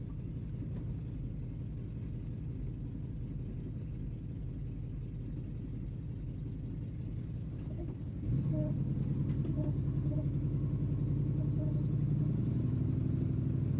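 Classic Ford Mustang engine rumbling steadily as the car drives, then a noticeable step up in loudness partway through as the engine pulls harder with a steady low drone.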